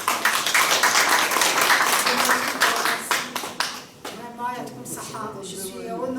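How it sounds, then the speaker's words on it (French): Applause from an audience at a literary café in Aokas, steady clapping for several seconds that thins out toward the end, with voices talking over it. "On applaudit."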